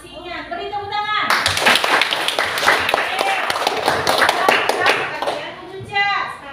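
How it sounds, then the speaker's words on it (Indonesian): Students clap together in a classroom, a dense burst of rapid hand claps lasting several seconds, with a child's and a teacher's voice speaking before and after. "Beri tepuk tangan."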